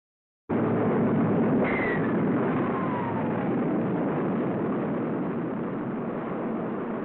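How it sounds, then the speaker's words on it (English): A Redstone Mercury rocket launches in the Call of Duty Cold War video game, a loud, steady roar that bursts in suddenly and holds throughout. A faint, falling whistle-like tone passes over it, and no voices are heard. "rocket performs perfectly as it lifts the funnel-shaped capsule gracefully along"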